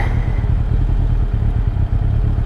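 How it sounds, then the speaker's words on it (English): A 2003 Kawasaki ZR7S motorcycle engine idles low while still cold, a steady, loud, close-up rumble with a rough, pulsing beat and no talk. "Her idle's a little low, but it's probably till we get her warmed up."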